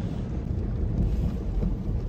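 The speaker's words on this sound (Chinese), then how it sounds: "大暴雨，哇，外面就是海洋。" Heavy rainstorm roaring as a dense, constant wash of broadband noise with low rumbling, heard from inside a car in Shanxi as floodwater rises outside, steady and close with no voices.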